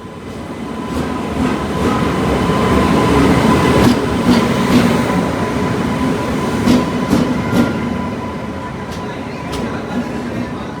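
The Jodhpur to KSR Bengaluru superfast express rolls out of Marwar Junction, a loud continuous rumble of wheels on track with periodic clicks and a steady hum inside the carriage.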